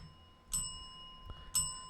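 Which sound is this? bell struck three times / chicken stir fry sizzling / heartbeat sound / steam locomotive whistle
bell struck three times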